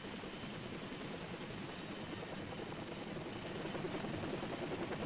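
H-21 troop carrier helicopters in Vietnam give off a steady, dense rotor and engine roar, moderately loud, with no talk over it.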